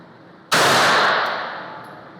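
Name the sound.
S&W Bodyguard 380 pocket pistol gunshots at range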